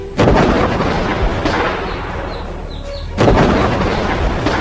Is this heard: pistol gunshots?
yes